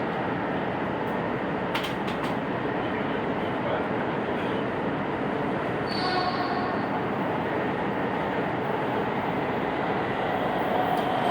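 Steady, loud rumble of a WMATA 6000-series Alstom metro car riding the Yellow Line, continuous broadband running noise with a brief high squeal partway through and no talking.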